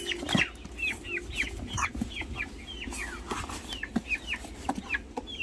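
Brahma chickens cluck on a farm in a busy run of short, repeated calls from several birds, close and fairly loud over a low background hum.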